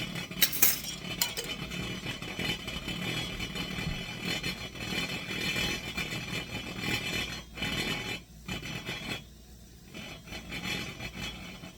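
A spoon stirring flour into a milk mixture for a ham and lima bean bake, with a steady scraping and clinking against the bowl that runs continuously, close and fairly quiet, easing off near the end.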